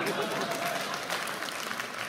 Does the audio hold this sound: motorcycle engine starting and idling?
no